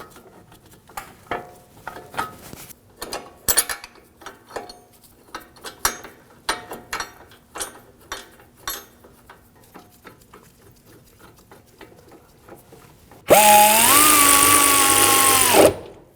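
Metal brake caliper bracket bolts on a 2001-2009 Volvo S60 front hub being started and run in by hand, a string of short irregular clicks and ratcheting taps, followed near the end by a loud steady whine of a power tool.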